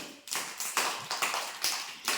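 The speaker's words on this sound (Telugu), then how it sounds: "క్లాప్స్ కొట్టండి" Children at an anganwadi in Virur, Nellore clap their hands together in a quick, fairly even round of about eight claps, close and moderately loud with no talk.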